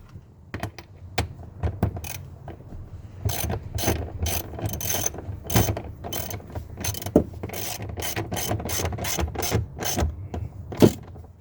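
A ratchet tightening a rear seat bolt in a Pontiac Grand Prix, with rapid close clicking bursts, short pauses and then long runs of quick ratcheting.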